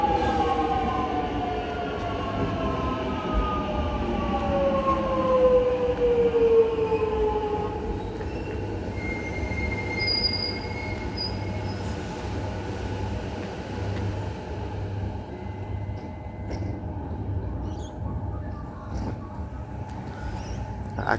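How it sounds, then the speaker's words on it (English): A train rumbles into Boronia station and slows, its brakes squealing in long descending whines over steady low rail noise, then settles into a continuous hum. "as a very different train comes"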